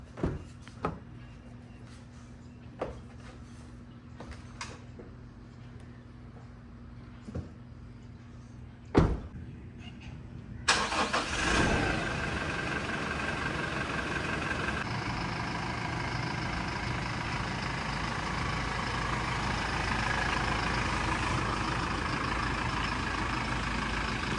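A Toyota Fortuner in a garage is preceded by a few faint clicks and a door thud, then its engine fires up abruptly and settles into a steady, loud idle rumble that holds to the end.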